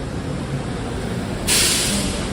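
A train rumbles through a Miami rail station, a steady low mechanical roar with a sudden bright hiss, like an air brake release, joining near the end; no talking.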